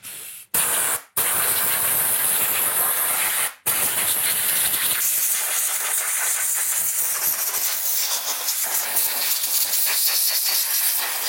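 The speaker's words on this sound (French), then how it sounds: "Je vais maintenant prendre du nettoyant frein." Brake cleaner is sprayed onto a KTM 300 EXC TPI motorcycle engine: loud, close hissing bursts, two short ones and then a long steady jet that slowly eases off.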